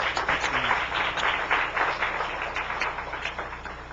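A church congregation applauds, steady dense clapping from many hands filling the room, fairly loud and continuous from start to finish with no talk over it.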